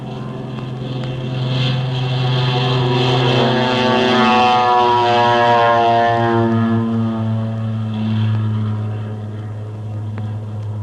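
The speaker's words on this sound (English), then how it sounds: "Now Clark of Kentucky is taking his flight down the runway" A radio drama effect of a propeller aircraft taking off down a runway: a loud, sustained droning engine roar with strong harmonic hum. It swells and holds steadily for about eleven seconds, alone and without speech.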